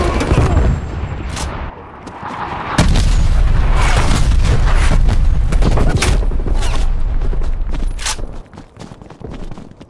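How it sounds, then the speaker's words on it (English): Artillery strike explosions in Call of Duty Black Ops Cold War: loud, heavy booms and rumbling blasts pound repeatedly in close succession, a dense barrage with crackling debris. "Hostile artillery target. Artillery inbound."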